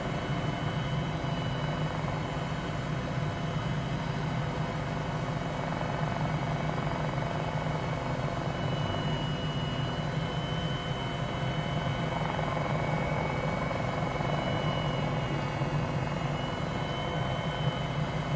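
A 500E helicopter in flight, heard from inside the cabin: a loud, steady rotor and engine drone with a low thrumming beat that holds unchanged throughout, with no voices.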